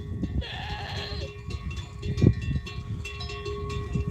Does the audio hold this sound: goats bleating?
yes